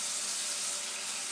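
Tap water running steadily into a sink during hand washing, a close, continuous hiss with no voices.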